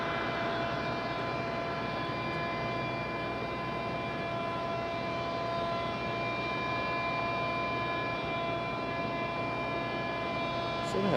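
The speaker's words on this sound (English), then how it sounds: "JetBlue A220 touching down there." A JetBlue Airbus A220 lands at Raleigh-Durham airport, giving a steady, broad engine roar with a faint tonal whine held throughout. It sounds distant and continuous, with no clear voices.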